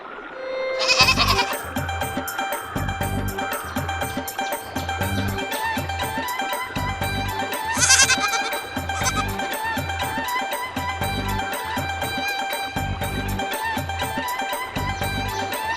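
Goats bleat repeatedly in a rustic rural setting. Two loud, distinct bleats stand out over a steady, rhythmic backing of music or stylised sound, with no speech.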